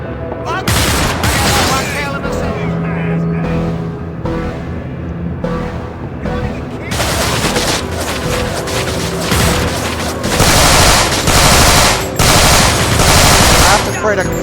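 Gunfire in the video game Manhunt 2 on PS2, with repeated loud automatic bursts and heavy shots hammering almost continuously over about fourteen seconds.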